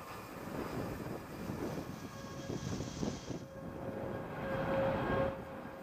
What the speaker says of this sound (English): Launch Alliance Vulcan rocket carrying USSF 106 for the United States Space Force